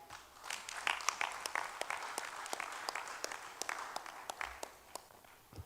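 An audience at a general assembly applauds steadily, dense clapping from many hands in a hall, moderately loud and continuous throughout with no talking.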